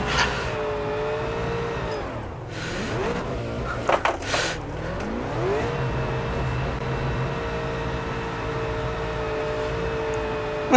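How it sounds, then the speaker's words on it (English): A super late model race car in the iRacing sim spins its tires in a burnout at Concord, the engine droning steadily with revs dipping and climbing again, loud and alone without talk. "now I can do some burnouts for you guys"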